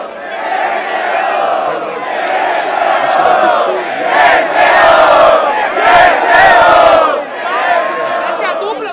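A loud crowd at a rap battle cheers and shouts together, rising in waves of roaring voices, close and energetic throughout.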